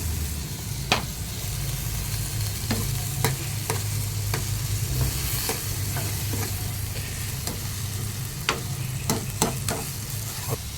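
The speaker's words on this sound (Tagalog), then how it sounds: "Haluin natin." Home-grown vegetables sizzle steadily in a frying pan while a utensil stirs them, with sharp scraping clicks scattered irregularly over the continuous hiss.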